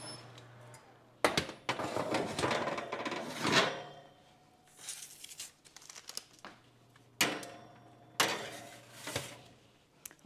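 A metal baking rack goes into an upper oven with bursts of clattering, sliding and rattling, several separate handling noises broken by short pauses, over a low steady hum.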